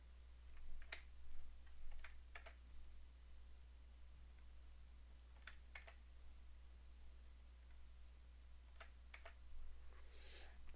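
Delete key on a computer keyboard pressed while editing text in a word processing program, heard as faint, sharp clicks in small clusters spread across the quiet recording, over a steady low hum.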